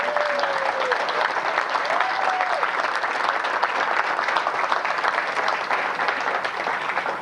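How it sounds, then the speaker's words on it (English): Sustained audience applause at a community awards ceremony for a junior high school nominee, a dense, steady roar of clapping with a couple of brief whistles near the start. "Please give her a round of applause"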